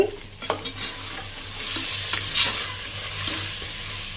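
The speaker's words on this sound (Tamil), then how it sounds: "இஞ்சி பூண்டு பேஸ்ட் போட்டு வதங்கிருச்சு" Ginger garlic paste sizzles and fries steadily in a pan while being stirred for mushroom biryani, with a continuous close hiss and a few scraping clinks of the spoon.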